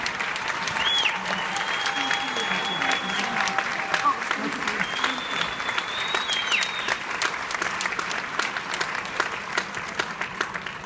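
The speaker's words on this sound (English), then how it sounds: "please give him another round of applause" Sustained applause from a crowd, steady clapping filling the room at moderate volume with a few faint whistles mixed in.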